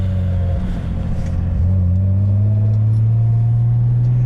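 Toyota Cressida car driving, engine humming and rising in pitch as it accelerates, steady and fairly close, with no talk over it.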